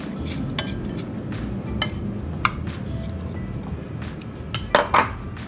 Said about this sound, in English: Now I have a round baking dish here. I'm gonna put a little sauce at the bottom.